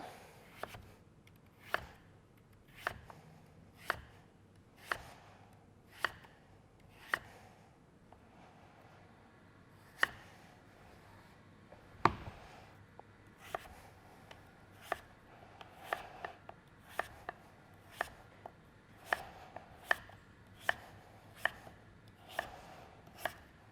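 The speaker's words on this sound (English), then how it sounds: "I'm going to slice it into some nice sort of thinnish pieces that we're going to get ready for the roasting tray." A knife slices peeled butternut squash into thin pieces on a board, about thirty sharp, evenly spaced chops close by, picking up slightly in pace toward the end, with no talking.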